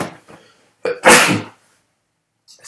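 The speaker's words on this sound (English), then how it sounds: "I really need to sneeze." A single loud hay fever sneeze, close to the mic, with a sharp inhaled build-up before the burst, then quiet, with faint voice fragments at the start.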